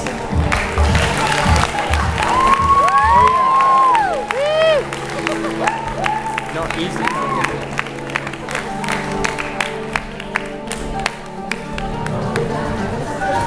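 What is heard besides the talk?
crowd applause and cheering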